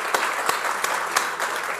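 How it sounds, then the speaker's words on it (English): Audience applause at a grand opening dedication ceremony, a steady wash of many hands clapping at moderate distance, fairly quiet and continuous throughout. "Maybe a round of applause for his efforts on that."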